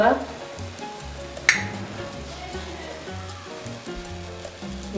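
Gram flour batter frying in hot oil for mixed vegetable pakoras, a close, continuous bubbling sizzle with one sharp clink, while a voice talks faintly underneath.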